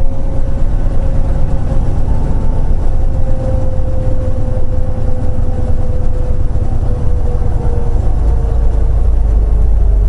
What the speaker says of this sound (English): Why is my Jake brake on?